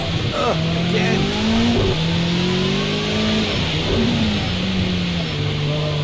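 Racing-game car engine revving through gear changes on a wet track, a loud steady mid-pitched drone rising and falling across the whole stretch, with faint tire noise and occasional voice underneath.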